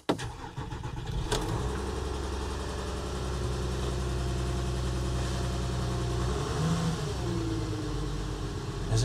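A Volkswagen Touareg engine fires up with a sharp start, then settles into a steady, close idle that holds for several seconds with a faint rise in pitch near the end.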